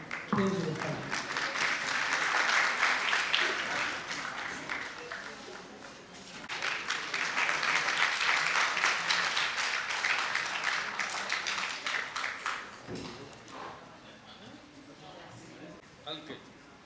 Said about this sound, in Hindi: आपकी जोरदार तालियों के साथ मंच पर स्वागत है प्रेम जी गुप्ता जी।